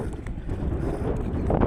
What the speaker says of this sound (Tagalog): Alakas ng hangin dito. Alakas ng hangin.